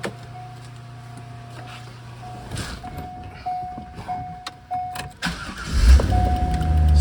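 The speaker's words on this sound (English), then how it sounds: "This engine starts right up." A 2000 C5 Corvette LS1 V8 engine with 77,960 miles cranks briefly, then fires and settles into a deep, steady idle after a quiet stretch of faint mechanical whine and clicks.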